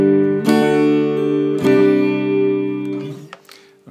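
Clean electric guitar chords from a swamp ash Telecaster with a maple neck ring out through a roughly 30-watt reverb amp, two strummed hits left to sustain and decay with a spacious tail.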